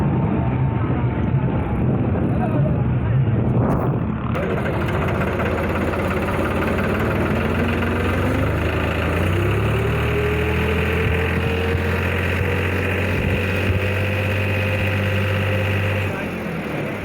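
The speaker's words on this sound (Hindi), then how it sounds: "ट्रैक्टर्स की कतारें हैं, ये जा रही हैं शामिल होने इस" Rows of tractors rolling toward a Republic Day parade, their engines a steady low rumble and idle that stays loud and continuous throughout, with a voice speaking over the engine noise.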